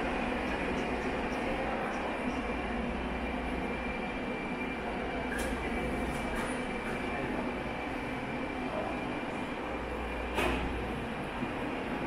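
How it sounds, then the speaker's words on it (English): Steady rumble of the Las Vegas Strip tram to the Mirage riding along, a continuous moderately quiet interior drone with a high whine and a few faint clicks. "we're going to take the tram because it's really hot outside"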